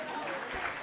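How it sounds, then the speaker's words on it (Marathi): Brief burst of audience applause at an event while a cricket match score is being followed, dense clapping heard close and fairly loud for under a second. "टाळ्या होऊन जाऊ देत"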